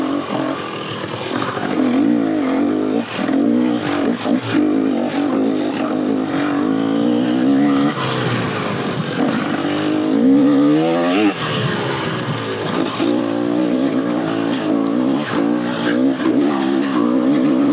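Raw two-stroke dirt bike ridden along an Arizona trail, its engine loud and close throughout, revving up and down continuously with rising and falling pitch as the rider works the throttle, no talking.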